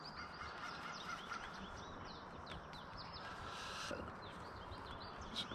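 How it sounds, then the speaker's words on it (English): Geese honk and other birds chirp outdoors in a garden, a faint, distant chorus of scattered calls and honks over a steady background hiss, with no voices. "The birds have decided to start chirping up now."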